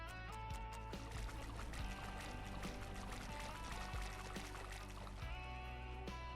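Water draining out of an unclogged pipe in DrainSim, a quiet, steady pouring and trickling flow with faint clicks and a low hum running underneath.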